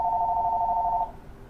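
A single sustained electronic telephone ring lasts about a second before stopping, set back in a quiet room with only low background hiss afterward.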